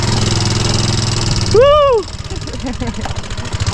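A motorcycle engine rumbles low and steady during a ride, broken by a loud whooping shout from a rider, then continuing as a pulsing putter under fainter voices.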